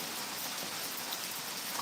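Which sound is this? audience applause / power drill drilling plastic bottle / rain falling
rain falling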